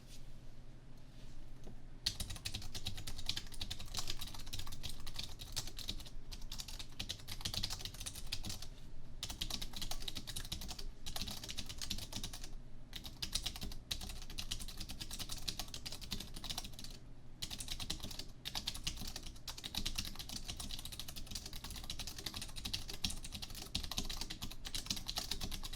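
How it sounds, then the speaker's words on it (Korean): Steady, brisk typing on the Omron mechanical switch keyboard built into an Aorus 17G YC i7 gaming laptop, a close, continuous patter of key clicks that carries on alone for the whole stretch. "이 녀석은 옴론의 기계식 키보드가 탑재가 되었습니다"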